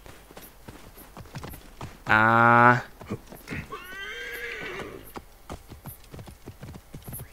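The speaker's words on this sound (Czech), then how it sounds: "takže tady si přivolám koně." A summoned horse in the video game Assassin's Creed Origins lets out one loud, close neigh, then a second softer whinny, while steady clip-clop hoofbeats keep going throughout and someone speaks briefly.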